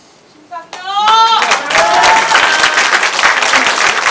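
After a brief shouted voice, a crowd at a political party rally in Seoul bursts into loud, dense clapping and cheering that holds steady to the end.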